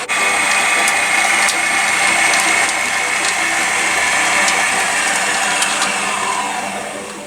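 An electric mixer whips cream for an eggless chocolate cake as its speed is gradually raised, giving a loud, steady mechanical whir with rattling ticks that runs throughout and tapers slightly at the end.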